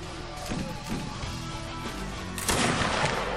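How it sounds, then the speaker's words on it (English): Musket fire in the video game Mount and Blade during a colonists-versus-natives invasion battle: several loud, sharp gunshot bursts ring out over a noisy battlefield din, with one especially heavy blast near the end. "I will fire a musket instead of swinging a sword"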